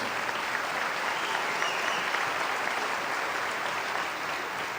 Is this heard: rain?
no